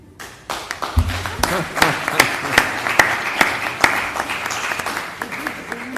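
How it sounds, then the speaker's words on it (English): Audience applause at an ETH Zurich and Seychelles planning and transport event, a dense wash of many hands clapping with sharp individual claps standing out, building quickly and holding steady throughout. "I guess that's also an applause,"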